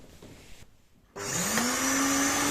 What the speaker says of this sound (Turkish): Gayet stabil şekilde süpürgemiz çalışıyor.